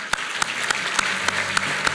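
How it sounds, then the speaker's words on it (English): Steady applause from a small group at a governance lifetime achievement award ceremony, with a few sharper individual claps standing out at a regular pace over the continuous clapping. "let's please give a warm round of applause"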